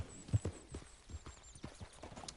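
Horse hooves clip-clopping in a video game, a sequence of soft, irregular thuds at a slow walking pace, fairly faint, with a thin high tone above.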